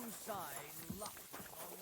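A fast horse gallops in the video game Kingdom Come: Deliverance 2, its rhythmic clip-clop hoofbeats running steadily under a voice talking over the play.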